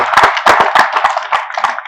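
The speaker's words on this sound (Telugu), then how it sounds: "సో మీ అందరికి మీరు ఒకసారి గట్టిగా చప్పట్లు పెట్టుకోవాల్సింది ఉంది" An audience bursts into loud applause after being urged to clap, with dense, close hand claps running steadily throughout and no talk.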